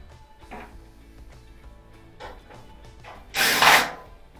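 A short, loud burst of a power screwdriver whirring near the end as it removes Phillips screws from an LG dryer door, after quieter handling clicks and rustles.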